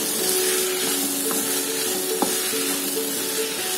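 Potato and tomato curry fries in a pan, giving a continuous sizzle with a few soft clicks of stirring, close and steady.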